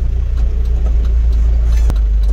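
Cars sit in a traffic jam around a 5-ton truck, with deep, steady engine idling rumbling close by, a faint clink partway through and no talk.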